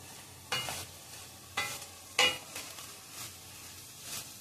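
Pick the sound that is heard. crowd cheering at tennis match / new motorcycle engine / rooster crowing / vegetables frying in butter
vegetables frying in butter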